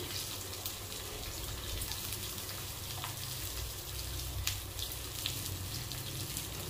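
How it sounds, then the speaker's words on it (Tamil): Cumin, curry leaves, dried red chillies and a handful of onion frying in oil in a home kitchen, a soft steady sizzle throughout with a few faint pops. "இது எல்லாமே நல்லா ஃப்ரை ஆகட்டும்"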